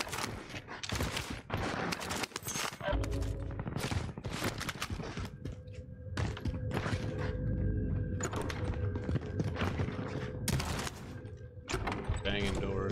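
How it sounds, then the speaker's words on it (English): Repeated door banging and gunfire in the video game Warzone, loud sharp bursts and thuds in quick succession with mechanical tones underneath and talk mixed in. "Banging doors"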